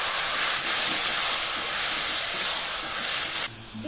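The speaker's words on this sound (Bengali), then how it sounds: "ভালো করে নেড়ে দেব" Garlic and mixed vegetables for a curry hiss and sizzle loudly in hot oil while being stirred, a steady, bright frying noise that holds throughout and drops away abruptly near the end, with no talking.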